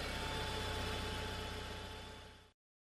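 A car engine idles with a steady low rumble and hiss, constant and moderately faint before cutting off abruptly.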